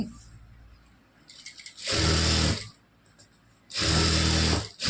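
Sewing machine stitching the hem of a blouse in two loud whirring runs, each about a second long, separated by quieter handling and small clicks.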